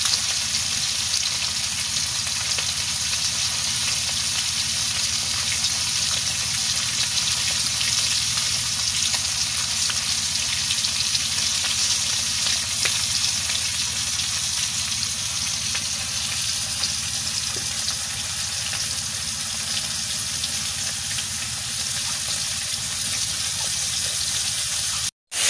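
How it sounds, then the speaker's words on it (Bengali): Fish frying in oil until reddish brown, a steady, dense sizzle that holds at an even loudness throughout, close and continuous with no talk. "মাছ এরকম লাল লাল করে ভেজে দিচ্ছি।"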